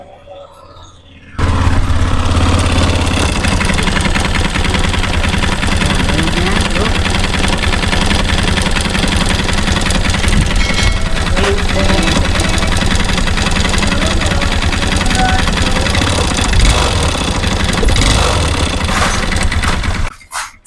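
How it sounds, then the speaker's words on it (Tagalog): A Honda Click 125 scooter engine at 82,951 km, damaged by neglected oil, idles steadily and loudly up close, with a rough mechanical knocking and clatter running through the drone for about twenty seconds. "Ayan, naging yung tunog niya, silunyal, kalampag. Tapos maingay, malagatik."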